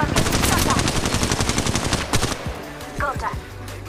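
Rapid automatic gunfire from the mobile battle-royale game Apex Legends Mobile, loud and dense for two seconds, then broken into a few sharper separate shots and short bursts near the end.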